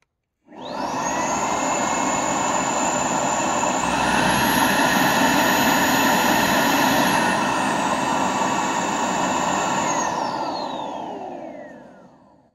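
A MOOSOO S2 cordless stick vacuum spins up and runs at maximum suction, a loud, steady high-pitched motor whine with rushing air, its pitch rising midway, then winding down at the end, heard up close with no talk.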